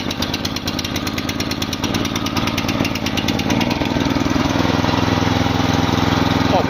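A mini tractor's small engine runs steadily up close, a loud continuous mechanical drone with rapid even pulsing and a slight rise in intensity partway through, no voices over it.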